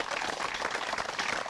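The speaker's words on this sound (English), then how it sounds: "Give us a clap there, boys." Wedding guests applauding during a ceremony, a short burst of dense, steady clapping from a small crowd close by.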